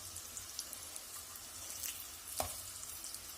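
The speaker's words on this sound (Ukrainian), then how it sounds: "Най вони смажуться." Soft, steady sizzling of cheese pancakes frying in a pan, close by, with a faint clink partway through.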